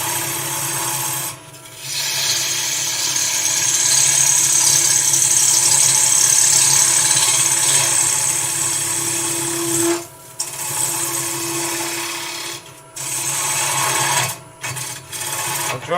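Wood turns on a lathe as a curve is shaped toward a socket, a loud, close, continuous scraping whir with a steady hum and a few brief breaks as the tool lifts.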